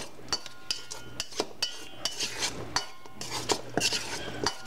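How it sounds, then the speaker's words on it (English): Utensil stirring teriyaki chicken and noodles with sesame oil in a pan, giving irregular clinks and scrapes of metal on the pan, close and fairly quiet, with no talk. "Then you're going to mix her all up and combine her."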